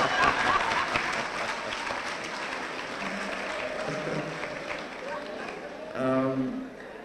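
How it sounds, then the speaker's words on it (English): Mourners at a funeral applauding the deceased's parents, a moderate wash of clapping with a few voices speaking over it, tapering toward the end as a voice briefly rises. "Round of applause for our parents."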